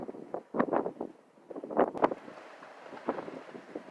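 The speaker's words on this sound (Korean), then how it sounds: "바람 엄청나게 부네 지금" Strong wind gusts buffet the microphone outdoors in uneven rushing bursts, louder at first and then settling into a lower, continuous roar.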